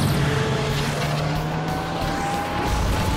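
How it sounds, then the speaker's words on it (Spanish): Cartoon vehicle from the Tayo children's animation revving its engine at full throttle, a loud sustained roar with a slowly rising whine, continuous throughout. "¡Motor al máximo!"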